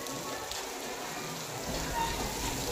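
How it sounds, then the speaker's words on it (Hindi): Rain falls steadily during an outdoor school flag-unveiling ceremony. The downpour is a broad, continuous hiss that grows somewhat heavier partway through, and a voice murmurs faintly underneath. "लेकिन बारिश आ गई बीच में।"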